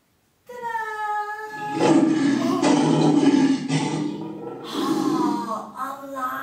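A person imitates a lion's roar with long, rough, breathy growls in two drawn-out bursts, loud and close, after a brief sung or spoken tone.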